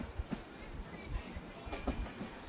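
A train rolls into platform 1 at Birur Junction, with low rumbling and a few soft wheel clacks and thumps at irregular intervals, fairly close and steady.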